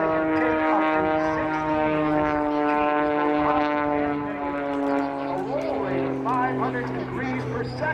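A 400-horsepower aerobatic propeller airplane flies at the Wings over Springbank airshow. Its engine gives a steady, fairly loud drone throughout, with an announcer talking over it the whole time.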